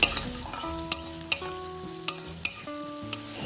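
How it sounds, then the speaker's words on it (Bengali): Chopped onion fries in oil with dried chillies, a soft sizzle punctuated by periodic sharp clinks of a spoon against the pan, alongside faint background tones. "এবার এর মধ্যে দিয়ে দিলাম একটা বড় মাপের পেঁয়াজ কুচি পেঁয়াজটা তেলের সাথে হালকা একটু ভেজে নিলাম"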